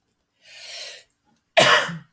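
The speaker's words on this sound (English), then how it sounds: "I keep coughing in this video," A person coughs twice into a nearby microphone in a quiet room, first a softer breathy cough and then a sharper, louder one, with silence before and between.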